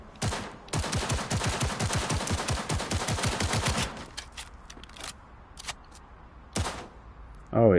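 Rapid gunfire in Cyberpunk 2077 set in Night City, a dense burst of automatic shots for several seconds followed by scattered single cracks and ricochets, loud and close, with a sharp whine near the end.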